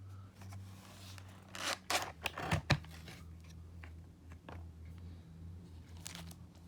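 Packaging of a Logitech K400+ wireless keyboard is handled and opened, giving sharp crinkling, snapping and tearing bursts in a cluster over a steady low background hum, with scattered softer rustles afterward.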